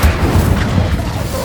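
An Incendio fire spell cast in Hogwarts Legacy lands as a deep, loud, rumbling burst. The low boom is short and close.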